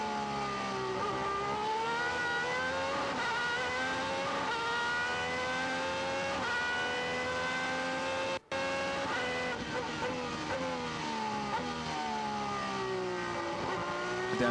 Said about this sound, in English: Down into second gear, back on the throttle. Third, fourth, fifth.